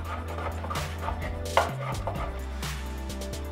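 A knife slicing raw asparagus on a cutting board, cut at an angle, with a quick series of crisp chops and one sharper knock midway, close and clear with no talk.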